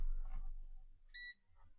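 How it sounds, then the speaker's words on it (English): A multimeter gives a single short, faint electronic beep while probing for ground on an ESP and Arduino setup, preceded by soft handling noise. "beep."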